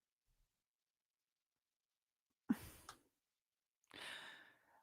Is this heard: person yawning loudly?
yes